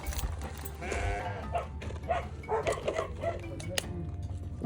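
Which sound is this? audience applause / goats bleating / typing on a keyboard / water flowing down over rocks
goats bleating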